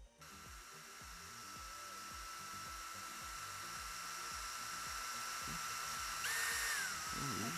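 A power drill whines steadily while working a horizontal slider block on a Kitfox aircraft build, its pitch holding then rising slightly near the end, with faint low knocks in the background and no talk.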